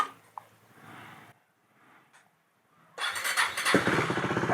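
A KTM Duke 390 motorcycle with a ride-by-wire throttle fault cranks and fires up after near silence, then settles into a loud, close, steady idle with a rough, pulsing rumble.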